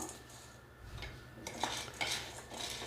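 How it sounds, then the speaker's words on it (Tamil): Roasted gram (pottukadalai) dry roasting in a pan, with light scraping and rattling of a spoon against the metal, a few sharper clinks near the end, close and moderately quiet with no voices. "இப்போ இதை நம்ம லைட்டாக ரோஸ்ட் பண்ணி எடுத்துக்கலாம்"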